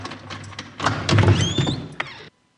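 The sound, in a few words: door being opened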